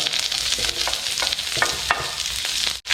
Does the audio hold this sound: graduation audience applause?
no